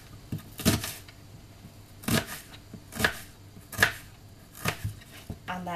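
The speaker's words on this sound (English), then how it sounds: "then I'm going to cut it into strips" A knife cuts an onion into strips on a chopping board, making several sharp, separate chops in an uneven rhythm with quiet gaps between them.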